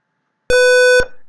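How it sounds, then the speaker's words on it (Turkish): A single harsh electronic beep from a DS1307 real-time clock circuit alarm, a buzzy tone lasting about half a second, loud and close, then abrupt silence. "Görüldüğü gibi 10. saniyeye geldiğinde alarmımız etkin oldu."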